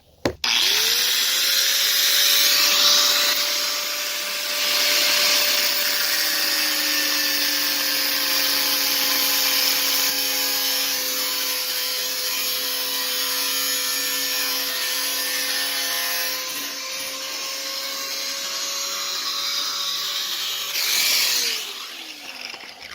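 A power tool cutting through an overly long bolt on a Ford 6.0 diesel engine: a loud sustained whine that starts abruptly, dips in pitch partway as it bites into the metal, holds for about twenty seconds, then winds down.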